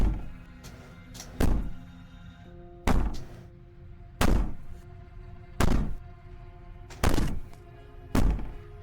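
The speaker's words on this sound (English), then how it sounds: "Maybe the banging and wailing will stop if you just don't pay attention to her." Heavy rhythmic banging in the video game Slay The Princess, loud booming thuds repeating roughly every one to one and a half seconds, with a steady eerie drone beneath and no speech.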